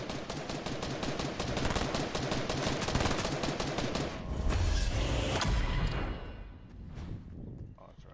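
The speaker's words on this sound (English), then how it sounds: "there is someone shooting here" Rapid automatic gunfire from a multiplayer shooter game, loud dense bursts of shots running almost continuously, with a heavier boom midway and the firing tapering off near the end.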